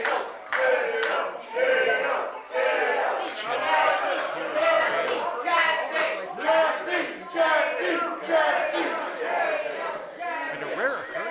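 A wrestling crowd at a live CWF event roars in waves of mixed cheering and booing, dense and continuous with rhythmic chant-like swells throughout.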